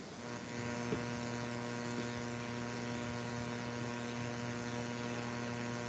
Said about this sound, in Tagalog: Patay mo electric fan mo.